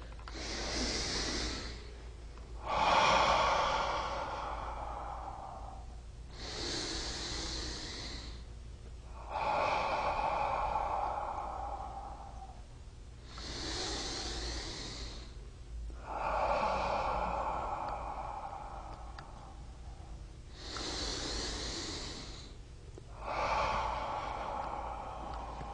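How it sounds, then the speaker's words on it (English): Slow, deep breathing exercise: long audible inhales and exhales alternating in a calm, even rhythm, about a dozen breaths, close and fairly soft with no talking. "Okay, let's breathe in."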